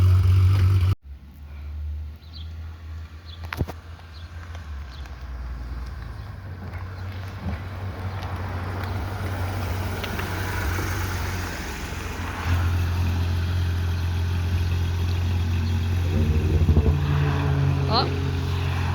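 A Porsche GT3 RS pulls away at a cars and coffee meet, its engine note climbing and swelling steadily after an abrupt start, fairly near with outdoor crowd noise and voices talking around it.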